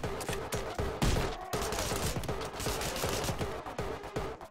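Rapid bursts of Uzi fire in the first-person game Anger Foot crackle in quick, close volleys with short pauses between them, loud and punchy, with no talk over them.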